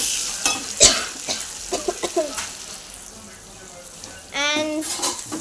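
Food in hot oil in a pan sizzles softly while being stirred, with scraping clinks near the start and a louder sizzle surge toward the end, and a voice talks over it.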